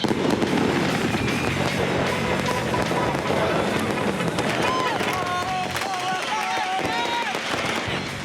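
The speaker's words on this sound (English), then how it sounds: "Every kid above the age of 5 seems to have been issued a lighter and a fistful of fireworks." Sharp crackling bangs of fireworks and firecrackers pop throughout a noisy crowd in the streets of Tripoli, Libya, with children among them and voices and shouting continuous underneath.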